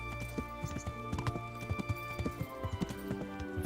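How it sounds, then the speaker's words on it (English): Horse hooves clip-clop in Kingdom Come: Deliverance around a stable, steady overlapping hoofbeats near and fairly loud, with a faint whinny and game ambience beneath. "Of course, plenty of horses"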